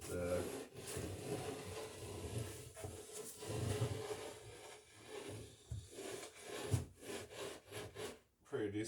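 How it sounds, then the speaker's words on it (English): A scribing tool run along the edge of a wooden plank while building a traditional New England wooden boat, a quiet rough rubbing and scraping with uneven strokes and a low background hum. "we'll just put this surface against the edge of the plank and run right along it like this"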